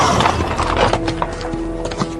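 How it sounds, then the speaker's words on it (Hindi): Several horses galloping with rapid clip-clopping hoofbeats and a neigh breaking through, loud and close, used as a horror-story sound effect. "ऐसा लगा मानो सारे घोड़े दौड़ते हुए गेस्ट हाउस के सामने ही आकर रुक गए थे"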